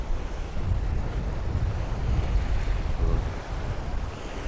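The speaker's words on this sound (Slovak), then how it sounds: "Toto je Červené more." Red Sea surf rolls onto the beach near a pier at Dahab in a steady, loud wash, with heavy wind buffeting the microphone throughout and no voices.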